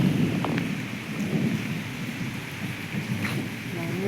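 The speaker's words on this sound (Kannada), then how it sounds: "ಶಬ್ದ ಕೇಳಿ ಜೋರು ಮಳೆ ಆಗ್ತಿದೆ." Heavy rain pours steadily while low rumbles of thunder roll underneath, dense and close, with a few faint clatters of drops on a surface.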